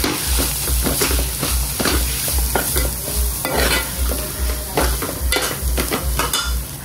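A spoon stirs Malvani masala frying in oil in a pan with a steady, regular scraping rhythm over a continuous loud sizzle, close up and with no talk.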